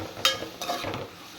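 Dried shrimp fry with onion in a pan while being stirred, giving a soft sizzle and a few quick spoon scrapes against the metal, close and brief, with no voices.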